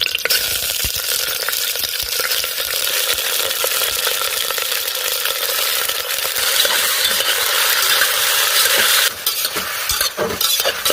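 Chicken pieces fry in a little oil with curry leaves in a 3-litre pressure cooker, giving a loud, steady sizzle up close with scattered scraping and stirring clicks, and a burst of sharper crackles near the end.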